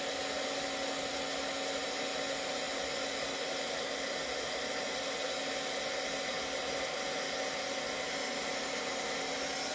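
A heat gun runs for embossing powder in a card-making project, giving a steady, even blowing hiss with a faint motor hum that holds unchanged for about ten seconds at low level, with no voices.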